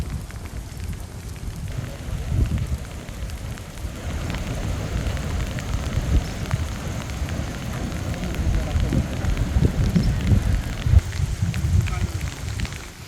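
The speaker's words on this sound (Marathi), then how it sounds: "वेगवान वाऱ्यासह पावसाच्या जोरदार सरी बरसत आहे" Heavy coastal rain in Ratnagiri district driven by strong winds, a steady dense rushing and pattering wash with gusty surges, loud and continuous under a voice speaking throughout.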